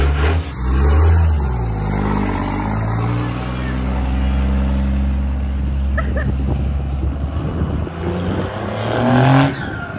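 A Jeep on forged wheels revs hard in a tyre burnout, a loud, roaring engine that rises and falls over ten seconds with voices over it.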